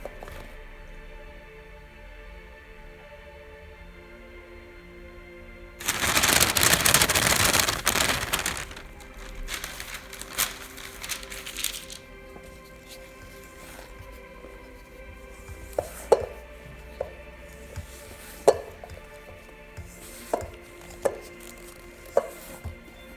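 A spatula scrapes and folds macaron batter with egg whites around a bowl, first a loud, dense rasp for a couple of seconds, then lighter taps and scrapes against the bowl's sides in a quiet kitchen.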